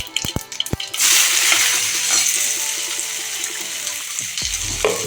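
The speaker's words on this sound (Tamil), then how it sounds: "சீரகம் சின்ன வெங்காயம் எடுத்து வச்சுருக்கேன். சின்ன வெங்காயம் போட்டு வதக்கிக்கலாம்." Small onions and cumin dropped into hot oil in a pan, a few sharp taps and then a sudden loud sizzle that continues steadily and fades a little, close up with no talking.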